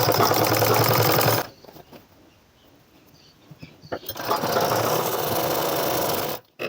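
A sewing machine stitches a women's cord-set shirt in two loud, close runs: a steady whirr that stops for a couple of seconds, then restarts and runs until it cuts off abruptly.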